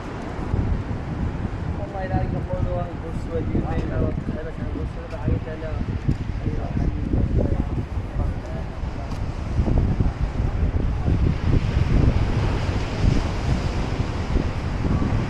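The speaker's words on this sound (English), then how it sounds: "Cannot filter out the wind," Wind rushing and buffeting a microphone on a road trip in Morocco in a steady low roar, swelling a little louder in gusts toward the end, with faint voices beneath.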